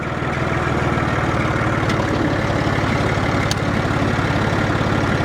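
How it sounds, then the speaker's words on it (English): A farm tractor engine runs while planting corn, a loud, close, steady throb with a regular low pulsing rhythm and no talking. "We'll get the tractor lined up."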